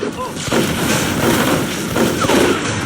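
Shotgun fire in the video game MicroVolts Recharged, a dense, loud barrage of overlapping booms and thuds with a voice faintly underneath.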